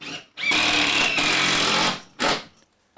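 Power drill driving screws to mount a sanding station on a workshop wall: one sustained whirring burst about a second and a half long, then a short second burst, close and loud with no talk.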